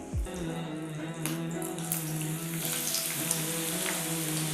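Sliced small onion dropped into hot desi ghee in a pan sets off a steady, close sizzle and crackle that keeps hissing evenly, with no talk over it.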